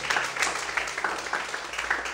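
A church congregation applauding during an evening sermon, steady dense clapping with rhythmic swells, fairly faint and continuous, no talk over it.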